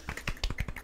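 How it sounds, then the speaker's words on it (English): A few soft, light claps in a quick, uneven run, about seven muted pats in under a second, close and quiet: a polite golf clap during a podcast chat. "Golf clap."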